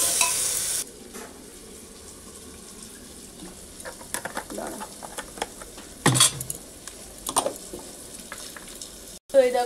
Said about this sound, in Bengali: তো এই যে এবার একটু সামান্য জল দেবো।